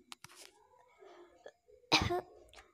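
A single sharp cough bursts out near the end, preceded by a few quiet throat sounds and small vocal noises.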